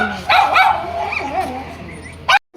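A dog barks several times close by in an Indian camping setting, sharp repeated barks with a few yips and whimpers, while people talk in the background.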